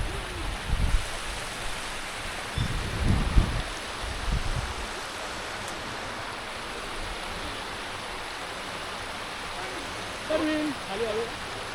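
Broad, steady rushing of wind-blown water spray at a reverse waterfall near Shri Kshetra Dhareshwar temple in Patan, Satara, with gusty rumbles of wind and a brief voice near the end.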